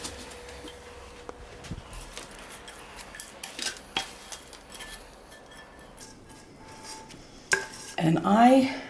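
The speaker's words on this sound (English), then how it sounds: "Let's put our 6 cups of Rice Krispies in. Stir this up good." Rice Krispies being stirred into melted marshmallows in a pot, with scattered scraping and clinks of a utensil against metal and a louder burst of rattling near the end; no talking.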